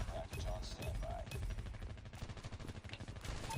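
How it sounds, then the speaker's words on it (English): Gunfire in the mobile shooter Call of Duty Mobile, with rapid, overlapping bursts from several weapons repeating steadily throughout, fairly faint. "Multiple people just shooting over and over and over again."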